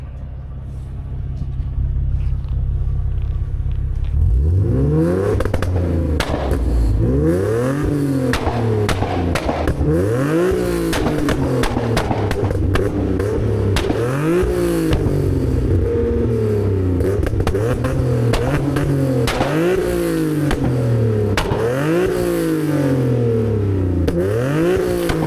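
A Nissan G37/370Z with a flame map tune starts up and revs repeatedly, its engine note climbing and dropping in steady rising sweeps with crackles and pops between them, loud, close and continuous, with no voices.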